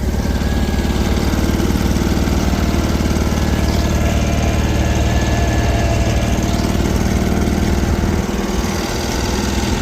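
A small Gravely garden tractor engine runs loud and steady throughout, a close, continuous mechanical drone with no pauses.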